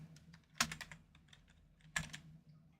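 Computer keyboard keys clatter in quick bursts, two louder flurries of typing standing out over a quiet room hum.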